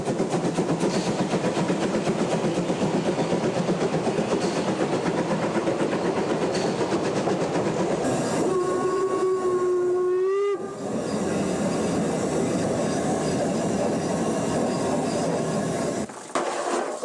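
A steam locomotive in Poland chugs steadily and loudly through snow, its rhythmic beat broken midway by a sustained steam whistle lasting a couple of seconds.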